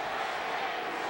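Football stadium crowd at a Louisville versus Pittsburgh college game, a dense, steady roar of many voices cheering continuously, loud and unbroken throughout.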